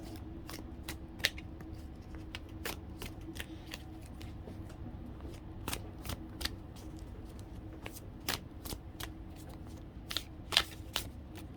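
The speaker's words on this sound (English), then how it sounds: "I'm going to give it a good shuffle." A deck of tarot or oracle cards being shuffled close up, with sharp riffling snaps and flicks repeating irregularly over a quiet room hum.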